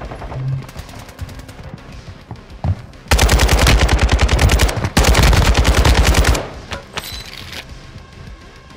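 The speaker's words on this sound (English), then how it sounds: "Okay, that gun indeed bangs." Automatic gunfire in Warzone 2 ranked play: after quieter game ambience, two loud, dense bursts of rapid shots hammer away close up, each lasting more than a second, with a short gap between them.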